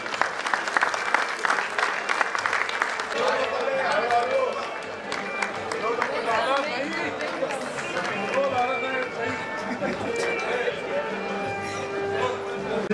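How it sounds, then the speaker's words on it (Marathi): A crowd applauds at a voluntary retirement reception, loud sustained clapping that holds steady for many seconds, with voices mixed in. "जोरदार टाळ्या"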